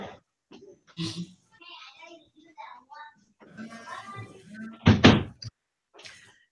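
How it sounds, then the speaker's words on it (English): A room door in a home shuts with one firm, close thud near the end, between stretches of quiet conversational speech. "let me shut my door"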